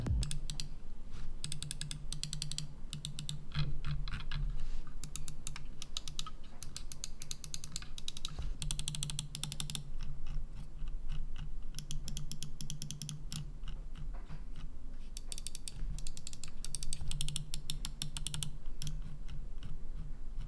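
Rapid, crisp clicking in irregular bursts from the buttons of a Dark Project ME4 computer mouse, close up over a faint background hum, with no voices.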